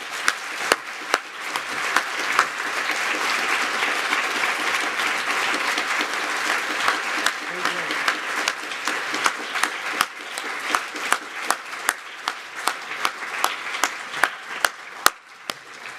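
Audience applause after a lecture: steady, dense clapping from a large indoor crowd holding for most of the stretch, then thinning into scattered individual claps toward the end.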